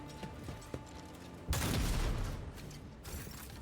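Shotgun blasts in the turn-based Warhammer 40,000: Rogue Trader video game, a loud burst of booming discharge with clattering mechanical action that rings out for about a second before fading into quieter game ambience.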